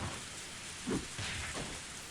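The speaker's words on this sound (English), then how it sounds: "Only the sound of the rain filled this tense moment." Steady rain from the video game Higurashi When They Cry hisses evenly throughout, with a couple of soft thuds standing out in the middle, alone without any talking.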